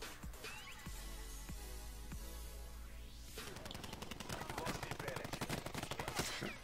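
A Maddox RFB rifle fires in a Black Ops game. Single shots come first, then a fast, loud automatic burst rattles through the second half, with a voice talking over the gunfire.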